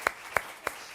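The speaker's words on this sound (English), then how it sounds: "I'll clap for that." Three single hand claps, spaced slowly and evenly, sound sharp and fairly close but quiet against a low background hum.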